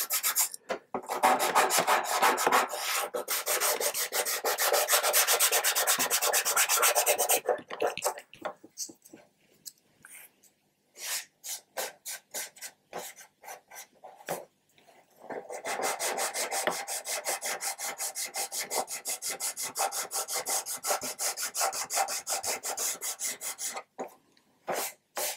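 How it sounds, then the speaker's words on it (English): Sandpaper rasping over terracotta filler on a 1/200 scale Scharnhorst model ship, steady back-and-forth scrubbing strokes, close and loud, with a pause of short scattered strokes in the middle before continuous sanding resumes. "we're just going to keep dropping down onto smoother grits all the time."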